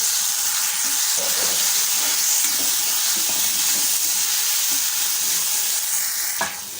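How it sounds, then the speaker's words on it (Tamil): Cooked red poha is stirred into hot tempering in a pan, with a steady loud sizzle and frying hiss and soft scraping stir strokes throughout. "தாளித்ததோடு சேர்த்து கலந்துக்கலாம்"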